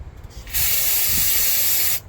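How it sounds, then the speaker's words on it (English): One steady, loud aerosol spray hisses for about a second and a half, starting and stopping abruptly against quiet background noise. "I'll spray this off too."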